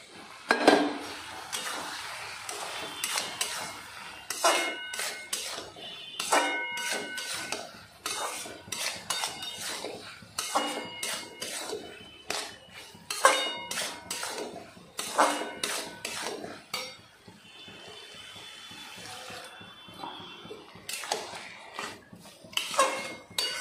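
Soya chunks go into a pan of fried spices and are stirred, a metal spoon scraping and clinking against the pan in irregular bursts with quieter sizzling gaps between strokes.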